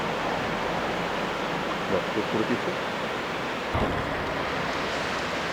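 The Mandakini river rushing past near Silli village by Agastyamuni in the Himalayas, a broad steady roar of flowing water, loud and constant, with someone speaking briefly over it.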